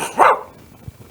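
A man imitates a dog with his voice, giving one sharp, loud bark-like yelp close to the microphone, followed by quiet.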